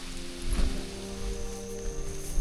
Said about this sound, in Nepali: पानी पर्यो फेरि अब